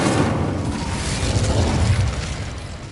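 A fire spell blast from a fantasy wizard video game roars as a loud, steady, broadband rumble that holds without a break for three seconds.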